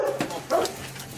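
A dog indoors near a front door during a police firearms arrest at a house gives a short whimpering yelp and bark, close and fairly loud, with faint voices around.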